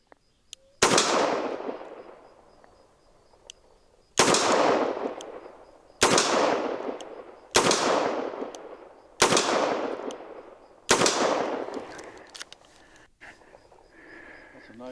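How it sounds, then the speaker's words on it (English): Six loud, sharp handgun reports from a Smith & Wesson revolver fired double action, spaced roughly one to two seconds apart outdoors, each with a long ringing decay. "We'll do a little bit of double action shooting here with this gun."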